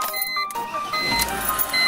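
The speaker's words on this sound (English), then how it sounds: "it's gonna give a bunch of rough idling" A BMW E46 with a failed airflow sensor idles roughly with no throttle applied, its engine running in an uneven, wavering drone close to the microphone.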